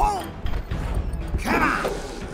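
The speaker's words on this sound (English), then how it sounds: "This is a basic training dummy. You can destroy it with any type of attack. Hit it, Paul." Attacks striking a basic training dummy in the Kung Fu Panda video game: a few quick thwacks and crashing hits, heard over a narrator's voice and game music.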